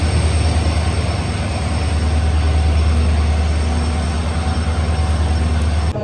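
Inside a passenger train after dark on a route from Majestic toward Gubbi, a loud, constant low rumble of the running carriage with steady rhythmic wheel clatter and a faint high whine, no voices.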